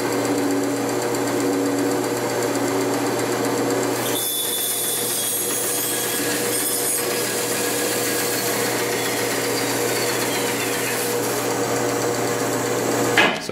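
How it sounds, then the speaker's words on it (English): A metal lathe cuts a piece of stock for a sphere machining jig, producing a continuous loud whirring, grinding drone with a steady low hum, and a sharper high screech entering partway through. "So let's start cutting some metal."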